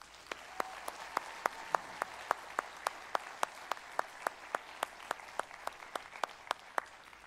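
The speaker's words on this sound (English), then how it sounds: "One more round of applause, please" Sparse applause from an awards ceremony audience at a sheriff's office event, a steady train of sharp, distinct claps at a regular pace over a quiet room, with faint murmuring beneath.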